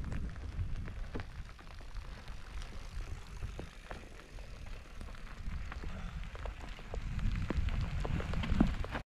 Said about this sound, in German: Und leider kommt der Regen.